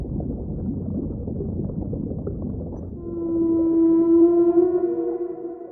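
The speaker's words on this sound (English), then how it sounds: "That's the whale sound underwater." A blue whale calling underwater: a low watery rumble gives way to a sustained, moaning tonal call that swells and holds for a couple of seconds, loud and alone.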